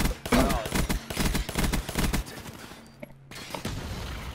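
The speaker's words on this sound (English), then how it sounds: "His teammate shot him." Rapid bursts of video game gunfire as a teammate opens fire, loud sharp volleys repeating through most of the moment before a brief lull and a few scattered later shots, with players' voices faintly underneath.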